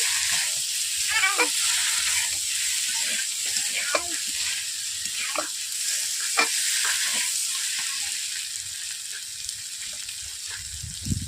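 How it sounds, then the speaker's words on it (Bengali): Cauliflower sautéing with spices in a pan beside a rui fish head, a steady close sizzle with scattered scraping stirs and clinks throughout, no talking. "এরপর আমি মশলা দিয়ে ফুলকপি একই সঙ্গে কষিয়ে নিচ্ছি"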